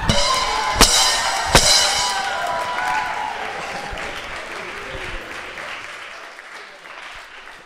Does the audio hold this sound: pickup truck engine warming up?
no